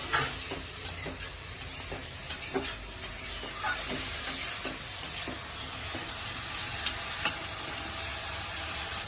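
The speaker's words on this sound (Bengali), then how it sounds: "চিংড়ি মাছটা আমরা সুন্দর করে ভেজে নিচ্ছি" Prawns frying in a pan, a steady close crackling sizzle with scattered sharper pops and light stirring clicks throughout, no voices.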